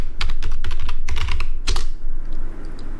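Rapid typing on a computer keyboard while entering commands to set up a Node.js project, with bursts of close, clattering keystrokes that fade to lighter taps near the end.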